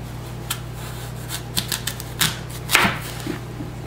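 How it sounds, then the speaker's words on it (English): A knife cuts a washed apple in half with a handful of crisp taps and crunches on a board, a few scattered and then a firmer cut near the end, over a low background hum. "cut it in half."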